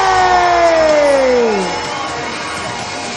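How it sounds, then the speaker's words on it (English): A capacity crowd at a party event cheers loudly, with a dense roar of voices and a descending whoop near the start before the noise eases slightly. "Make some noise one more time for your fan warm-up leader, Clara May"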